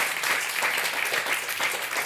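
Brief burst of audience clapping at a book and film chat show, steady and moderately loud, with no speech over it.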